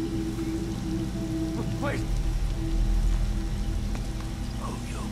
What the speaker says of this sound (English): Oh, the rain ruined my box.